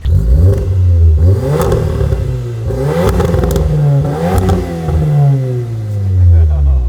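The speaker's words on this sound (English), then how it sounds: "there's proof that you can indeed make a 4-cylinder actually sound good" A 4-cylinder car engine fitted with mufflers and resonators revs up and down in repeated rising and falling sweeps, loud and close, with excited voices speaking over parts of it.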